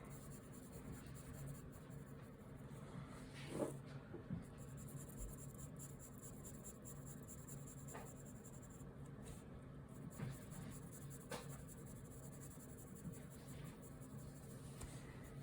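Faint, steady scratching from a pencil shading on paper during a Bargue drawing exercise, with a few slightly louder strokes and no voices.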